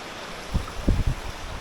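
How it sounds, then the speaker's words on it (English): Clear river water flowing beside a hiking trail on Mount Greylock, Massachusetts, a close, steady wash with a few louder surging splashes standing out over the rush. "awesome river."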